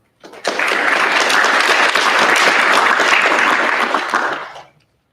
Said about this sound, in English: Please give our honored guests a round of applause.